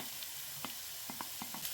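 Carrots and onion fry in oil in a pan, giving a soft continuous sizzle broken by a few sharp stirring clicks and scrapes, quiet and close, with no talking.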